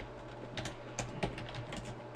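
Fingers type a command-prompt command on a computer keyboard, a quick, steady patter of close, clicky keystrokes over a faint background hum.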